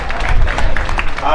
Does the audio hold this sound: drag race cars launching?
no